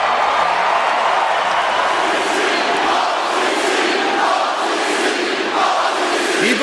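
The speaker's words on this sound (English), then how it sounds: "Even with everyone in attendance cheering him on" A wrestling crowd at a WarGames match roars and cheers loudly and without a break, a dense wall of massed voices with shouts rising out of it now and then.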